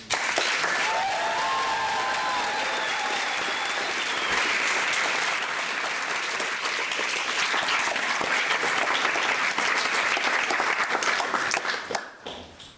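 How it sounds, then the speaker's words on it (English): A big round of applause from a crowd at a student association's national assembly in Düsseldorf, sustained and even with a few whistles early on, fading out near the end. "I would like to have a big round of applause for Oliver."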